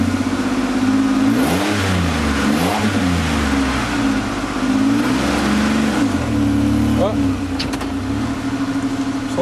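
A junk Chevy Equinox engine is revved hard to the red line, its loud mechanical whine sweeping up and down in several swells over a steady idle drone.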